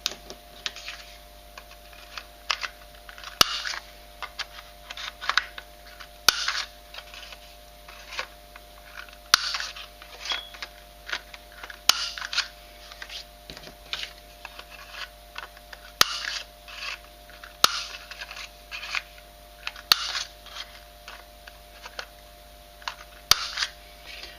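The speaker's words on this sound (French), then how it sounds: "je vais commencer par couper tous les angles des deux cartes" Scissors snipping the corners of paper cards, a series of short sharp clicks and cuts spaced every second or two, close and fairly quiet against a low steady hum.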